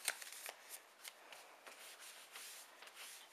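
Paper card being folded up and squished together by hand for a Valentine's fold-out craft, soft crinkling and rustling with small scattered crackles, quiet and close.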